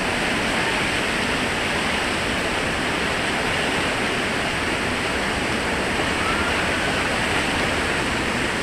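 A New Zealand waterfall roars as a steady, loud, unbroken rush of falling water that fills the whole stretch without pause or voices.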